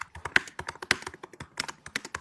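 Rapid, close keyboard clicking goes on without a break, with a steady patter of key presses and a few sharper, louder taps.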